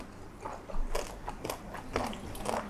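Crispy deep-fried pork tail crunches between teeth in close, repeated bites and chews, crackly bursts at an uneven rhythm over a quiet background with no talking.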